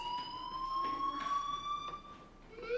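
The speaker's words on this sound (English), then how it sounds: "do you hear that fire alarm?" A fire alarm rings in the video game Life Is Strange as a steady electronic tone with bright overtones, moderately loud and continuous, with faint background sounds beneath it.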